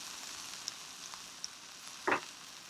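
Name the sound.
food sizzling in hot stone pot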